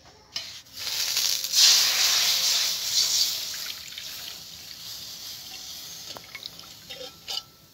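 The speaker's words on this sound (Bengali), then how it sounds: "এবার আমি কড়াইতে দুধ দিয়ে দিচ্ছি।" Cow's milk is poured into a wok in a brief, bright splashing stream that fades to a thin trickle, with a few soft kitchen clinks afterwards.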